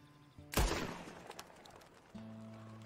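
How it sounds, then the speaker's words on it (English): A single loud gunshot in a video game, a sharp broadband crack with a decaying echo tail, over steady low droning background tones. "That's because I fired a shot."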